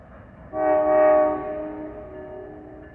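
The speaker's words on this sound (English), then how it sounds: "Must be a crew getting ready, testing the train." A train horn near an abandoned Delaware & Hudson roundhouse sounds in a sustained, loud blast that swells and then fades into a lingering tone, with a low rumble underneath.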